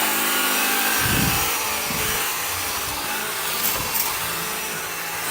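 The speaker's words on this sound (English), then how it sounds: "Very powerful cordless vac." Bissell AirRam cordless upright vacuum cleaner running steadily at close range, a constant motor whine with brief thumps as it picks up debris, no talking.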